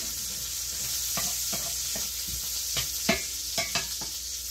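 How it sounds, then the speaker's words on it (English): Onions fry in a pan with a constant bright sizzle, broken by several distinct stirring scrapes that grow louder and quicker toward the end, close and with no voice. "let me give my onions a stir here"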